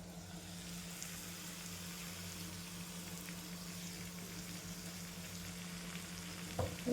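Bitter gourd slices stir-frying in a pan give a steady, even sizzle and crackle that holds throughout, with a brief stirring clatter near the end.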